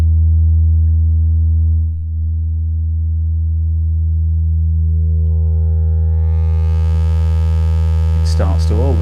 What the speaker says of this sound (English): it starts to overdrive, so we're actually getting a kind of a bit of a distortion on it there